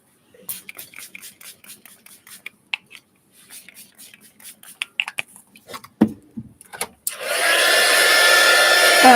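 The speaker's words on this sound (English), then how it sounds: "Oh, heat gun alert." Heat gun switched on in a mixed-media art workspace after scattered clinks and handling noises, a loud continuous blowing roar starting abruptly and holding steady to the end.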